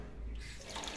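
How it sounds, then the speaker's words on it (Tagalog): Water pours steadily from a shower tap into a campsite shower area in Indang, Cavite, a strong, continuous close hiss with low rumble throughout. "Malakas ang tubig."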